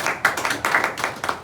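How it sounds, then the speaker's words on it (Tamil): An audience claps hands at a talk in a quick, uneven rhythm of sharp, close claps that come in bursts about every quarter second. "நீங்கள் தானே கைத்தட்டுறீங்க"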